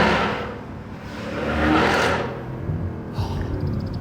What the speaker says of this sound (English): Name a better sounding naturally aspirated V8.